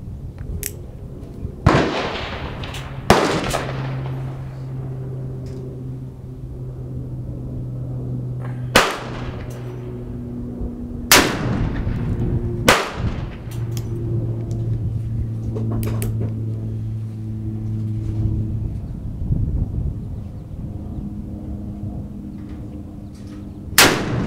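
A Colt Walker .44 revolver fires about six sharp, loud gunshots at uneven intervals outdoors, each crack followed by a decaying echo, with a low background hum between the shots.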